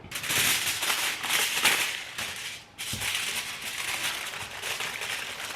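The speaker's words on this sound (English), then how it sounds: "take some aluminum foil and wrap it up" Aluminum foil crinkles and crackles loudly up close as it is wrapped around a log-shaped vegan roast, with dense bursts of rustling and a short pause midway.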